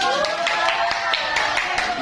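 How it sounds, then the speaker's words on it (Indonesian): Classroom applause from students during an Indonesian academic coaching session, a steady patter of hand claps running throughout at close range, with voices and tonal hum mixed underneath. "Tepuk tangan dulu"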